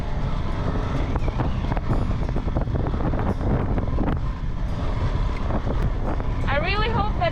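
Wind buffets the microphone during an offroad motorbike ride on dusty terrain in Gozo and Malta, a constant loud low rumble with engine noise beneath it and a person talking over it.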